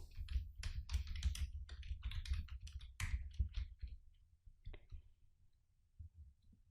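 Steady bursts of key clicks from a computer keyboard as sales and markdown units are typed into a Power BI chart title, close and fairly dense for about four seconds, then sparser taps.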